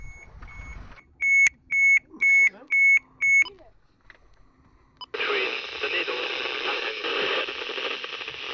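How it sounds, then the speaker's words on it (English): A boat's marine radio sounds a distress alarm at sea: five sharp, evenly spaced electronic beeps, followed after a pause by a loud hiss of radio static. "The beeping sound is the alarm to say that there's somebody in distress somewhere."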